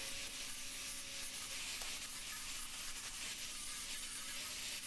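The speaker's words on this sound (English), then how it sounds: "Let's start off with the good old flap disc." Flap disc on a bench grinder working a ram skull sculpture, a continuous gritty abrasive rasp with a faint steady motor hum beneath, fairly quiet and unbroken, no voices.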